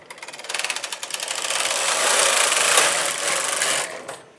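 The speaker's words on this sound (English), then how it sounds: "And then I will knit the next row." A knitting machine carriage sweeps across to knit a row of yarn for a raglan sweater, giving a continuous rasping, whirring slide that builds and holds steady for a few seconds, close and alone.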